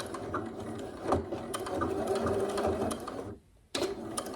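A sewing machine runs a back stitch along a bodice seam, its needle mechanism chattering steadily before cutting out briefly and starting up again close by.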